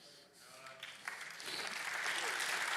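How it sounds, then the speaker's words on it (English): Applause from a church congregation rises from quiet into a growing wash of clapping over a few seconds, fairly distant and soft, with a voice audible early on. "Oh, wow, I'm getting some applause out here."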